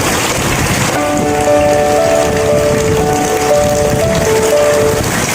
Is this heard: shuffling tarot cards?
no